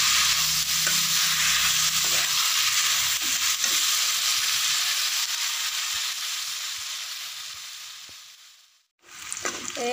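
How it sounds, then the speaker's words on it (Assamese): Goat mutton frying with onions in a pan for an Assamese home-style curry, a steady loud sizzle with scraping stir strokes, fading slightly before a brief pause and resuming near the end; no talking. "আগতে এইখিনি পিঁয়াজৰ সৈতে মাংসখিনি ভাজি ল'ম।"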